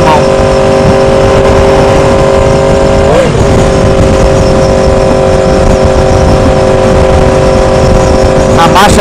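A 2016 Yamaha R1 sport motorcycle riding at speed near Allatoona Lake, its engine a loud steady drone held in high gear with wind rush, briefly shifting pitch around the middle and again near the end.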